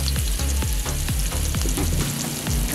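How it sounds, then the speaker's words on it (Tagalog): Garlic with its skins and onions fry in a pan for native chicken adobo, a loud steady sizzle broken by repeated stirring scrapes and clacks, close and continuous with no talk. "Papulahin lang natin sa kailangan kasama yung balat guys ng bawang para yung bango."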